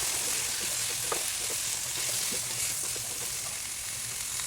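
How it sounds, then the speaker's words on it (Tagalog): Sliced papaya and tomato are sautéed and stirred in a pan: a constant close frying hiss with faint, soft stirring taps underneath, and no voices. "Haluin natin ito ng maigi at gisahin natin ng bahagya."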